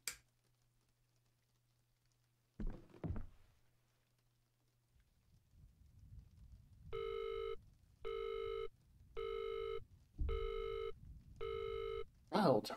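A telephone tone in the horror game Visage comes after a couple of soft clicks and a quiet hum. It sounds as five evenly spaced electronic beeps, each about a second long, set against faint crackling background noise.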